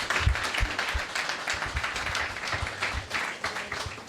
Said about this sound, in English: Can everyone give Ralph a big round of applause?